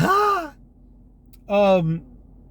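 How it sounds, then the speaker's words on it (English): A person yawns twice up close, each a drawn-out voiced exhale that trails off, separated by a second of near silence. "Sorry, I do apologize for all this yawning."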